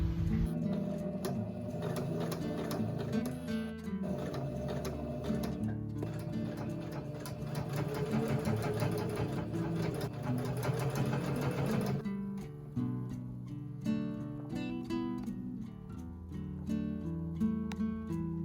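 Sewing machine stitching boning channels into a prom dress bodice, running in a steady, rapid mechanical chatter for a long stretch, with a change in pace partway through; close and continuous, no voices.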